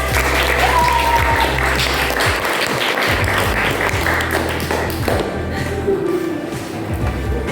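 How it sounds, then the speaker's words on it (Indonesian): Classroom applause for a student group during an Islamic religious education lesson: many hands clapping steadily and fairly loudly with some desk taps and thumps, thinning out near the end. "Tepuk tangan untuk kelompok."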